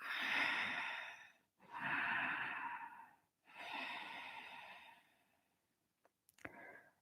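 Slow, audible exhalations during a power vinyasa yoga session, three long breaths out, each lasting over a second with pauses between, close and soft, followed by a few faint clicks.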